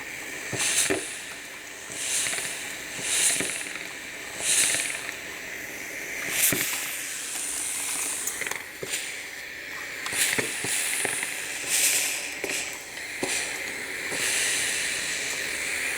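Steam hisses in repeated soft bursts during bleach work on fabric in a workshop, several breathy puffs rising and fading over a quiet background.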